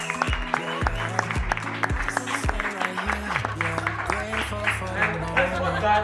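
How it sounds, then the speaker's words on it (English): A crowd celebrating a surprise marriage proposal applauds with steady clapping, mixed with cheering and voices, over a thumping beat of music. "Can we please give a round of applause?"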